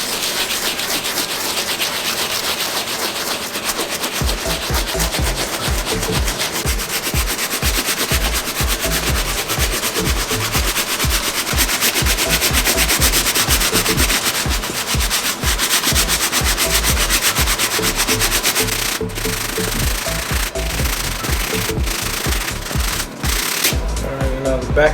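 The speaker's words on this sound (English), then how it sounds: "time to switch. Medium bristle brush." A medium bristle brush scrubs an Off-White Jordan 1 sneaker in rapid, steady back-and-forth strokes, close and loud, with a brief pause and a few knocks near the end.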